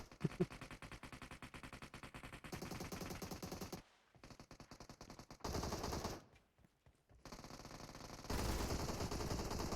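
Rapid automatic gunfire from the PUBG Mobile game rattles in long, dense bursts, loud and close, broken by a few short pauses, with no talking over it.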